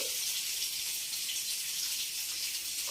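Water runs in a steady, even stream into a pot of cooked mushroom biryani, a constant close hiss with no talk or other sounds.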